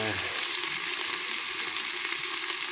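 Onion sizzles steadily in a hot pan for meat cooking, a dense continuous crackle throughout with a brief low voice at the very start.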